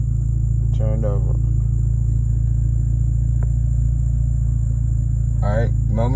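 An Audi car engine keeps running with a constant low rumble and idle drone, while someone speaks briefly near the start and end.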